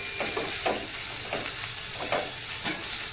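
Chapati noodles with pepper and spices are stirred in a hot pan, a steady close sizzle with soft repeated scraping strokes of the spatula at a loose rhythm, no voices.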